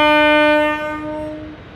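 The horn of a WAG-9 electric locomotive sounds loud and close in one sustained, steady blast of about a second and a half, as the Ahmedabad Puri Superfast Express departs Bhilai Power House railway station.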